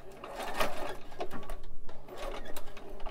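Sewing machine stitching the seam of a monk robe at a quarter-inch from the presser foot edge, in short uneven bursts of rapid needle chatter with pauses between.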